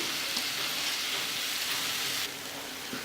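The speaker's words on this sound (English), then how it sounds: "we will just saute it all well" Peas and boiled potato are sautéed for a Punjabi samosa filling, giving a soft, even hiss of frying in a pan, fairly quiet and steady, dropping slightly near the end.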